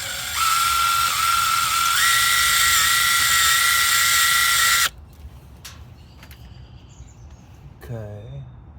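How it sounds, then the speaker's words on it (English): A power drill whines loudly and steadily for several seconds while reclutching a car AC compressor, then cuts off, leaving faint clicks and a short voice near the end. "The drill doesn't fit in here quite right"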